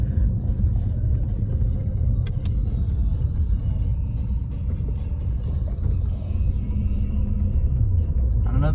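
A Maruti Suzuki Vitara Brezza drives through city streets, heard as a continuous low road rumble and engine drone from inside the cabin, steady and moderately loud with no voices.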